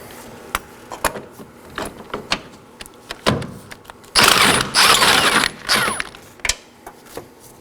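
A ratchet on a long extension works loose 16mm motor mount bolts on a 2013-2019 Nissan Sentra 1.8L: scattered close clicks and knocks, then a dense burst of rapid ratcheting, then more clicks.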